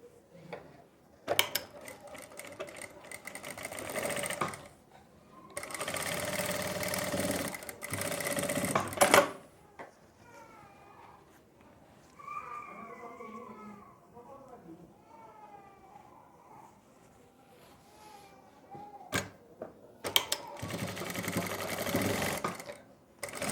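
A sewing machine stitches a kurti shoulder seam in several rapid whirring bursts, loud and close, separated by pauses in which someone talks.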